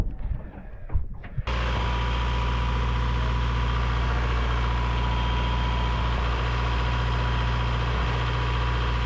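A boat engine idles steadily with a deep, constant hum, loud and close, after a brief stretch of quieter, uneven noise at the start.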